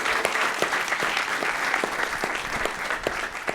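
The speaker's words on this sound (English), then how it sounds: "Let's hear a round of applause for our scholars." Applause for the scholars at an astronaut technical conference session: a full, steady clapping from a sizable audience, even and sustained throughout, with a few crisp nearby claps popping through.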